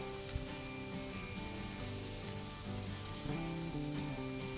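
Piri piri chicken breasts sizzle steadily on a Weber gas grill set up for direct grilling, a loud continuous hiss of fat and juices with faint scraping, no voices.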